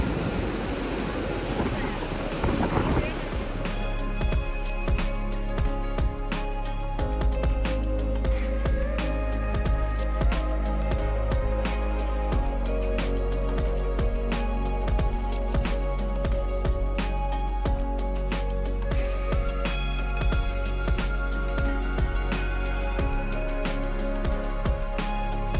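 Rushing river water pours at the Vishnu Prayag confluence of two rivers in Uttarakhand, a constant loud, hissing roar that persists under music-like tones.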